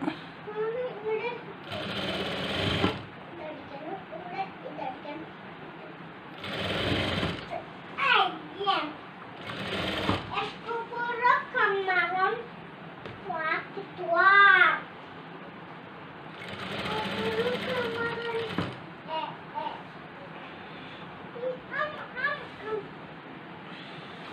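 A sewing machine stitches a churidar sleeve in several short, loud bursts of rapid whirring, separated by pauses. An adult talks in the gaps and a voice is also heard.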